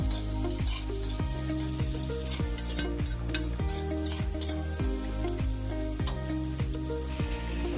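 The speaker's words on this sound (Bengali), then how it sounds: "তারপর ভেজিটেবলগুলো হালকা করে ফ্রাই হয়ে গেলে তার মধ্যে দিয়ে দেবো কুচো লঙ্কা এবং কুচো পেঁয়াজ, এবং সেগুলোকে ভালোভাবে নাড়িয়ে চাড়িয়ে নেব" Vegetables fry in a pan with chopped green chili and onion while being stirred, a loud continuous sizzle broken by regular scraping strokes of the spoon, with no voices.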